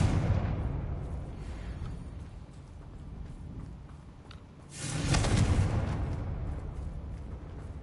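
A Confringo blasting spell explodes in a Harry Potter video game, heard as a broad rumbling boom that swells midway and fades out, with some lower rumbling before it.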